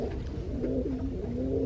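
An injured pigeon with a broken leg coos softly in a low, steady rolling call, with several short coos running together over a constant background hum.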